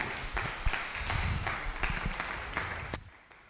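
Audience applause at an academic leadership talk, a moderate patter of clapping with some sharper individual claps, fading out near the end.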